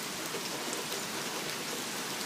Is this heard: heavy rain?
yes